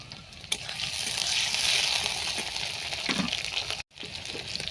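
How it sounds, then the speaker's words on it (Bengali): Prawns fry in hot oil with chopped onion and garlic paste, giving a continuous bright sizzle with occasional stirring scrapes, close up and alone, with one sharp break near the end. "এবার ফোড়ন দিয়ে দেবো, পেঁয়াজ কুচি দিয়ে দেবো, এবার রসুন বাটা দিয়ে দেবো, আর চিংড়ি মাছগুলো দিয়ে দেবো।"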